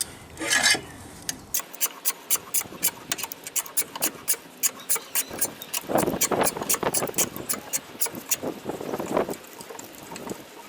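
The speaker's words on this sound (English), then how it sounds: "Now using this jack handle tool, you just simply put it in the hole there and you just start spinning until that tyre is all the way off the ground." A car jack handle is cranked repeatedly to raise a Mazda CX-5, giving a rapid run of close metallic ratcheting clicks and rasping scrapes in a steady rhythm for several seconds.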